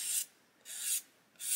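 A sanding stick rubs a small plastic part of a 1/32 scale HKM A-20G Havoc model held in tweezers, giving three even rasping strokes with short pauses between, close and fairly soft.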